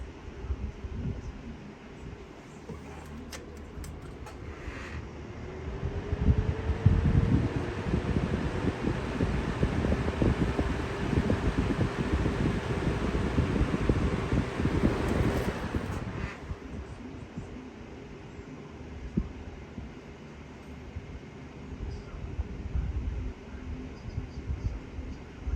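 A Lasko Galaxy 20-inch box fan spins up from a switch click, its motor hum rising in pitch over several seconds, then settles into a steady airy whoosh, with a second click and a slight drop near the end.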